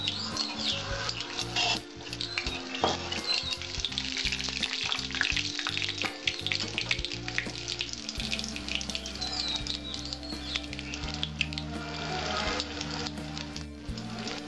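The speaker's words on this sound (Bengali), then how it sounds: "এবার দিয়ে দেবো সাদা জিরে, সাদা জিরেটা লাল লাল হয়ে যাবে, তখন আমি দেব এর মধ্যে তেজপাতা।" Cumin seeds and a bay leaf fry in hot oil with a loud, continuous crackling sizzle and dense spattering pops, while a steady low hum sits underneath.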